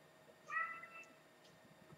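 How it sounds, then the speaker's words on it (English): A domestic cat gives one short meow in a quiet indoor room beside a computer, fairly soft and slightly distant, with a low background hum and no talking. "That's my cat again."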